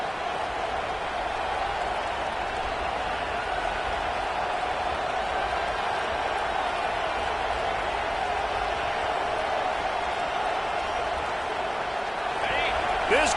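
Stadium crowd noise in the CFB26 college football game at a Texas at LSU matchup, a dense, steady roar of many voices filling the background without letup, swelling slightly near the end.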